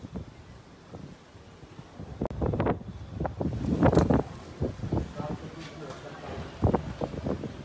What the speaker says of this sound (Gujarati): અમદાવાદ શહેરના અનેક વિસ્તારોમાં અત્યારે ભારે પવન ફૂંકાઈ રહ્યું છે અને વંટોળ જેવું વાતાવરણ જોવા મળી રહ્યું છે